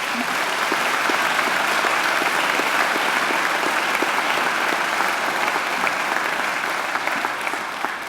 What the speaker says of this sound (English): I think Angela deserves another great round of applause.